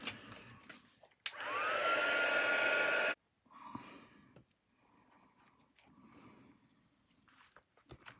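A hair dryer drying flowers made from tea bags roars loudly for about two seconds and then cuts off, leaving faint handling rustles and soft knocks close by.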